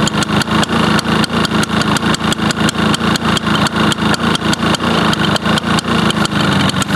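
Old Toro 21-inch Proline commercial walk-behind mower with a Suzuki engine running after a cold start, a loud close rapid even putter with a steady beat and no talk.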